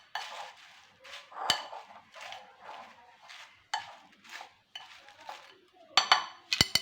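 A spoon stirs milk into food in a bowl, making a run of soft scraping strokes with sharp metal clinks in between, close and fairly quiet.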